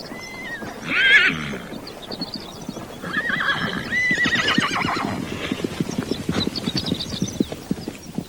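Spanish Mustang horses neigh and whinny, one sharp call early then a longer one, while hooves clip-clop in a quick, uneven rhythm close by.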